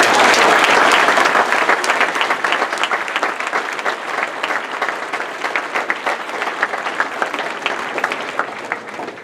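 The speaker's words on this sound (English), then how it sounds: "Let's give them a round of applause." A studio audience at a Bermuda sports show applauds a wedding couple with brisk, continuous clapping that stays full and steady for about nine seconds, with a slight easing after the first second.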